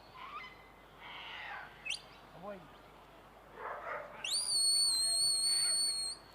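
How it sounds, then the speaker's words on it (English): A shepherd's sharp, high whistle blasts to a sheepdog ring out across an open sheepdog trial field, including a long sustained tone near the end, mixed with distant voice commands and faint outdoor ambience. "Combination of whistles and voice commands."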